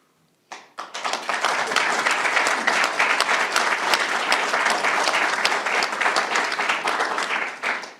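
Audience applause during the Maryland governor's budget address, a burst of many hands that starts abruptly, holds loud and dense for several seconds, then fades at the end.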